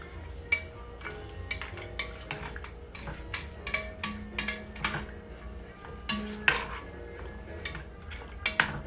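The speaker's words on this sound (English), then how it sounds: "Give it a nice stir." Braised short ribs with brandy being stirred in a pot, a spoon knocking and scraping against the metal in irregular clattering strokes over a low simmer, close and alone.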